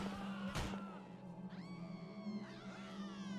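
A cat in the video game Postal: Redux meows twice in close succession, over a steady hum and game background noise, after a short thud at the start.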